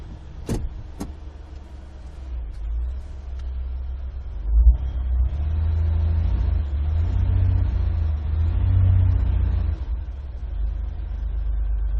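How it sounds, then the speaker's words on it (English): A Ford car engine held under load during a brake torque test, a loud, steady low rumble that swells and holds for several seconds, preceded by a couple of sharp clicks, heard close with no talking. "Next thing I'm going to do is a brake torque."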